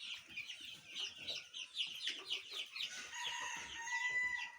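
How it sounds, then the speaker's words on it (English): Broiler chickens at a poultry farm cluck and call repeatedly in a busy, overlapping chorus, close and clear, with a longer crow-like call near the end and no talking. "I'll show you my broiler birds, our new stocks of broiler birds."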